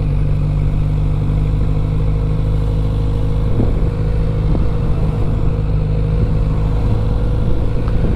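A Kawasaki Z900RS motorcycle engine drones loudly and steadily up close under acceleration, revs rising toward about 6,000–6,500 rpm, with some rattling clatter throughout.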